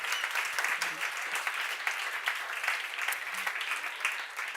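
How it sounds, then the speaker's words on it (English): Audience applause at a science summit pitch session, a dense, steady wash of many hands clapping that continues evenly throughout at moderate loudness. "Can we have a big round of applause for the first round of pitches?"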